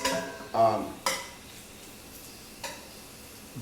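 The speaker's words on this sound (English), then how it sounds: "What I'm going to do is I'm going to just kind of saute all this fat" Beef fat trimmed from a chuck roast sautés in a pan for carne guisada. A spoon clatters and scrapes in a few sharp strokes over a faint sizzle, with a brief voice near the start.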